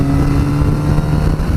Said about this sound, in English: The engine on this is beautifully smooth, it sounds great.